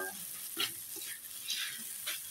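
Onions sizzling in a frying pan for black pepper egg dish, a soft steady hiss with faint scraping stirs at intervals, quiet.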